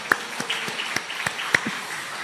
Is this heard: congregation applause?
yes